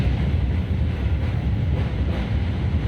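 Train at Naihati railway station, a steady loud rumble of rolling rail cars with a wind-like roar throughout, no voices.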